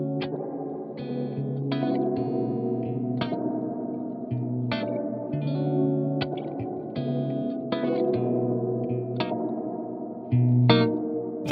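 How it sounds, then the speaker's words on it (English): Melodic synth or keyboard notes pass through the Arturia Delay Tape-201 plugin's emulated spring reverb, giving each phrase a washy, echoing tail with chorus-like shimmer. Music plays alone for about eleven seconds, with no talk. "the original 201 came with a unique spring reverb tank, and you get access to that as well"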